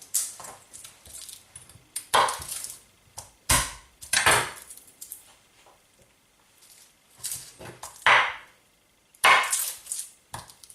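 A knife whacking garlic cloves on a wooden board to split the skins, a series of sharp, close knocks and taps separated by quiet gaps, irregular in rhythm.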